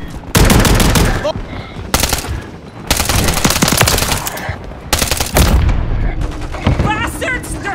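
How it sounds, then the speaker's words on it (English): Heavy automatic gunfire in the Call of Duty MW3 multiplayer War mode: loud, near bursts of rapid shots, nearly continuous with brief breaks, with voices mixed into the fire. "they're shooting at me!"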